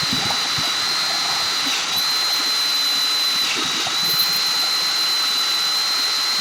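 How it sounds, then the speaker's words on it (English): A drill with a stepper bit whines at a high steady pitch as it bores through a plastic PlayStation 2 case, loud and continuous with small dips in speed. "I'm just going to drill it all the way through"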